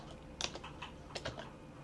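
Light keystrokes on a computer keyboard patter in short irregular bursts, quiet and close, with a couple of sharper clicks standing out and no talking.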